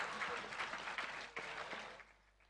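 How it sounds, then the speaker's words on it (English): Kids at a felicitation ceremony in Nagpur applaud, a dense burst of clapping that holds steady, then fades out over the last half second. "Kids, you can give a big round of applause."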